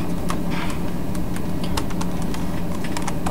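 Rapid typing on a cheap blue-LED lighted computer keyboard, a loose run of sharp, irregular key clicks over a steady background hiss, close and alone.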